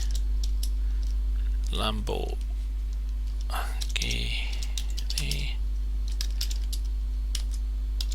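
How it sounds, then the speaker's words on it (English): Light clicking keystrokes on a computer keyboard tap out a short word, scattered and close over a steady electrical hum, with a few brief soft whispery sounds between the typing. "I'm going to type in Lamborghini"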